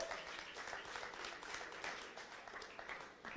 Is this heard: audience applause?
yes